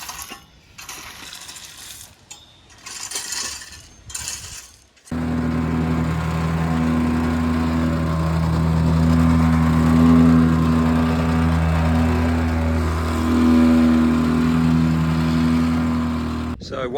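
A plate compactor compacting the stone sub-base for block paving in a garden. The motor starts abruptly after a few seconds of quiet outdoor sound and then runs as a loud, steady, buzzing drone with a vibrating rattle until the end.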